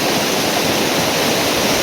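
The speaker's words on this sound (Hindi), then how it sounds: "ये झरना देखे, ये देखे मैं भी इसकी झरने के बीच में ही खड़ा हूँ" Loud, constant roar of a waterfall heard up close at Naran, rushing water filling the air as a dense unbroken hiss with no voices.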